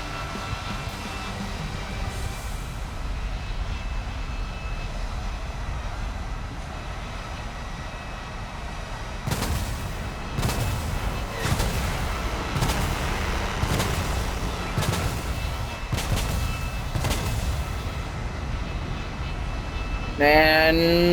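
A-10 Warthog ground-attack jet in War Thunder, a steady engine roar with several sharp bursts of cannon gunfire cutting through in the second half, loud and close.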